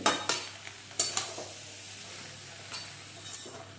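Vegetables and Malabar spinach for a Bengali festival labra are stirred in a pan, with scraping spoon strokes and a few sharp clatters over a soft, steady sizzle, close and without talk.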